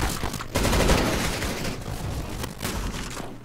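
Rapid automatic gunfire in the CS:GO video game, loud and close, a dense burst of shots running through most of the moment with no talk.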